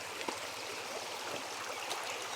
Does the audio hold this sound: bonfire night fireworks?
no